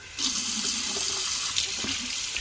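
Hot water runs steadily from a tap onto a 1971 Cuda's frame during repair, a continuous broadband hiss of flowing, splashing water heard close and alone for a couple of seconds.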